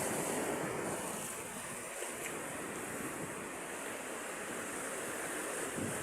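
Ocean waves surge and wash steadily against a concrete seawall, mixed with gusty wind rumbling across the microphone.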